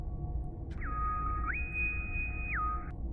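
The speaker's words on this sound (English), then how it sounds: "Bosun's whistle." A bosun's whistle sounds over a starship intercom: one call that starts low, jumps to a higher sustained pitch, then slides back down before cutting off, all over a steady low electronic hum.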